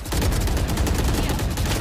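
Rapid bursts of gunfire from the tactical shooter game Valorant crackle densely, a loud continuous volley of overlapping shots with no pauses.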